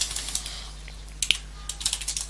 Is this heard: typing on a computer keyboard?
yes